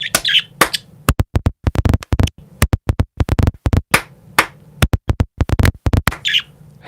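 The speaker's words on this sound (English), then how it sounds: "Let's see if I can get him to chirp along with the claps." Sharp hand claps come in quick bursts while a pet bird chirps and squawks between them. The claps ring loud and close, and the bird's calls are fainter.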